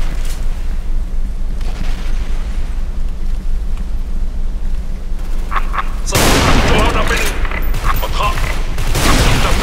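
Bomb explosions and bursts of gunfire in the video game Special Force 2, with a low rumbling boom building into a loud, dense blast and crackling fire in the second half.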